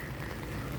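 Rain falls steadily as a dense, even patter on surfaces outdoors by a riverbank, close and continuous with no voices.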